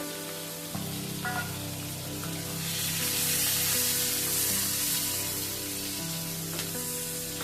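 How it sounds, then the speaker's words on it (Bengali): Chopped onion, garlic, green chilli and dried chillies frying in a pan, a steady close sizzle that swells louder midway, with a low background hum throughout. "কিছুক্ষণ পেঁয়াজ রসুনগুলো ভাজার পর"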